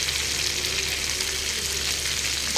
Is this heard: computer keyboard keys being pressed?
no